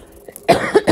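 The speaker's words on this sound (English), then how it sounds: "I coughed." A single close, sharp cough bursts out with a couple of quick follow-up hacks, loud and alone after a moment of quiet room noise.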